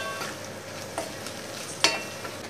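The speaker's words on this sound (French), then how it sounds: "on va les faire revenir avec l'échalote et le beurre pendant 3-4 minutes" Morel mushrooms sautéing with shallot and butter in a pan, a constant soft sizzle broken by a few sharp utensil clinks, one louder knock near the end, close and without talk.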